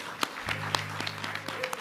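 Sparse, faint clapping from a congregation at a family Shabbat service, a few scattered claps over a low sustained tone, brief and quiet.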